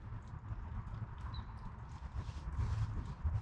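A wild horse in British Columbia walks nearby, hooves clip-clopping in a soft uneven rhythm over steady outdoor background noise, with no one talking.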